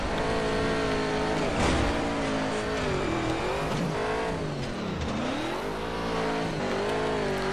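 Racing truck engine from Colin McRae: DiRT roaring continuously, revving up and down through gear changes with occasional tire scrabble, loud and close with no talk.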